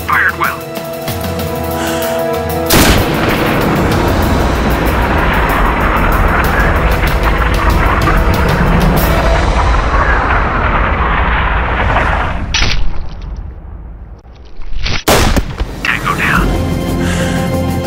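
Gunfire and booming explosions from a sniper video game, loud and continuous throughout, with sharp blasts near the start and toward the end and speech mixed in.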